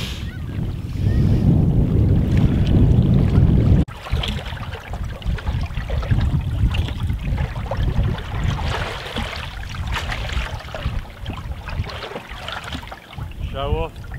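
Canoe paddled against the tide on the tidal River Medway, with water sloshing and splashing, wind buffeting the microphone, and a heavy rush of water early on that gives way to quieter paddling noise.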